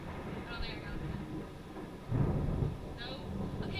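Thunder from a lightning storm at Orange Beach, a low rolling rumble swelling midway over wind and light rain, with faint voices nearby.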